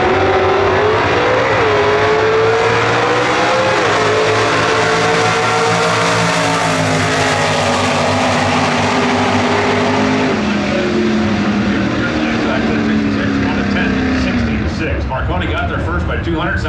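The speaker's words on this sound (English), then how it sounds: "So the two classic Dodges, big block on the left side, small block on the right side." Classic Dodge stock cars, one big block and one small block, roar loudly at a drag strip, engines revving and rising in pitch as they launch and pull away, with a commentator talking over the din.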